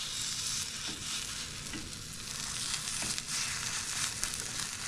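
Takoyaki balls sizzling in oiled takoyaki pan wells as they are turned with a pick, a dense, steady frying hiss with small clicks and scrapes, close and without talk.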